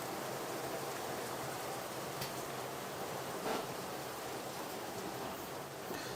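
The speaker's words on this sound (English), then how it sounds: "It's absolutely pissing it down." Heavy rain pours down outside, an unbroken, hissing wash of noise at steady level with no letup, heard from indoors.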